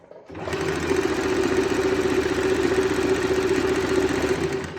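A sewing machine stitches the hem of a kurta in one steady, fast, whirring run lasting several seconds, close and loud, with no talking.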